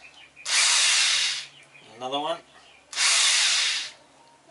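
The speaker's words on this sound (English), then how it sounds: "I've got the drill in my hand, and I've put some pressure on it. I'm pulling back on the wire, and the drill is holding it, and I'll just give it a little burst." Power drill spinning to twist wire, two loud, sustained whirring bursts of about a second each, with a short spoken phrase between them.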